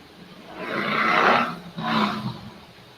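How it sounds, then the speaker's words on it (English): A loud motorcycle passes by, a rough roaring surge that swells and fades twice over a few seconds, heard from a moderate distance. "And another loud motorcycle goes by."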